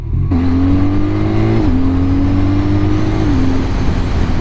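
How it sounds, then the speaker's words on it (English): A BMW R12nineT motorcycle engine hums steadily close up, its pitch climbing in steps as it revs and shifts through gears while accelerating. "you could hear the engine and the exhaust note picking up as you just accelerate it a bit further"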